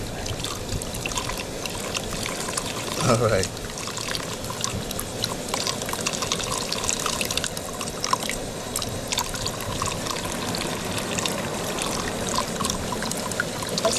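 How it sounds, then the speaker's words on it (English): Water poured carefully from a container into a grow tank for betta fry, a continuous close trickle and splash that goes on steadily throughout, with a brief voice near the start. "So I'm pouring very carefully."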